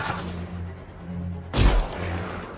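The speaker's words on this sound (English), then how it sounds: "Time to use that mortar." A mortar fires in a realistic war video game, one sudden heavy boom with a low thump that stands out against a continuous rumbling battlefield background.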